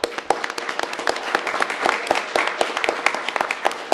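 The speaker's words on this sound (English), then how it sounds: "give the Turtle Program and volunteers the well-deserved" Steady applause from a meeting audience honours sea turtle program volunteers at a public council session, many hands clapping continuously at moderate loudness with no break.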